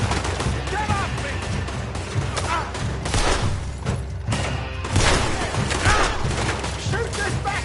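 Gunfire in Red Dead Redemption 2, dense overlapping shots and booms rattling through a firefight, loud and near with shouting voices over it.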